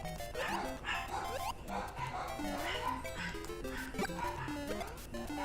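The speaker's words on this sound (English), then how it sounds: "Not sure what the dogs are so excited about." Several dogs bark and yip excitedly in a continuous, busy chorus, fairly faint and mixed under background game music and effects.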